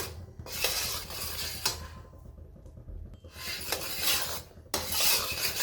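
Sesame and jaggery ladoo mixture being stirred in a pan over low heat, giving repeated scraping, rasping strokes of a spoon against metal in uneven bursts, close and fairly quiet with no talk.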